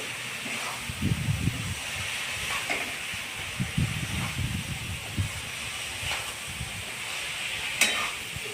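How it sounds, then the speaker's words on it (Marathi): Sprouted moth bean samosa filling being sautéed in a pan, a soft continuous hiss with intermittent scraping stirs and faint clatter, moderately quiet. "हिरवी घालू शकता अगदी असं परतून घेने"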